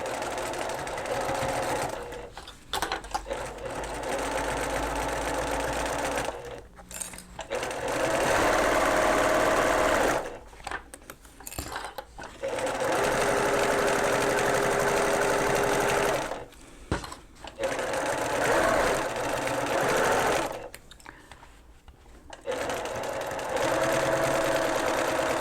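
A sewing machine stitches a quarter-inch seam around a reversible bucket hat in several loud runs of rapid needle chatter, each lasting a few seconds and separated by short quiet pauses.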